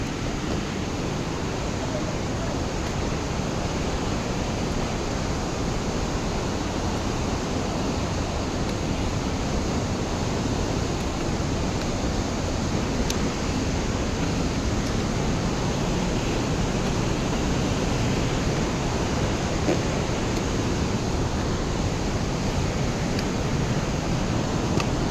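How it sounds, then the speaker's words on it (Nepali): Langtang river, a snowmelt mountain river in Nepal, rushes in a loud, steady, unbroken roar of turbulent water that fills the whole clip, with no talk over it. "त्यो सब हिउँ पलेर आएको खोला हो लाङटाङ खोला हो"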